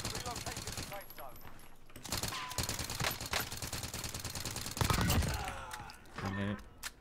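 Call of Duty Warzone gunshots: scattered loud shots and short bursts over busy game sounds, with a voice speaking partway through.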